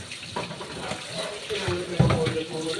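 Water pours and splashes as it drains from cooked food in a kitchen, a brief running, tap-like gush with soft sloshing bursts, close and moderately loud, with faint voices in the background.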